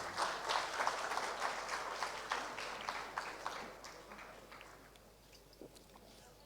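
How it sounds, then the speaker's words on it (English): Applause from the audience at an annual general meeting, a steady, fairly soft wash of clapping that gradually thins and fades over about six seconds. "Please, a big round of applause for Mohan."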